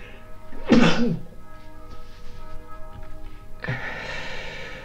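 A person sneezes once, sharp and close, over faint game background music, then a breathy sigh or exhale follows a few seconds later.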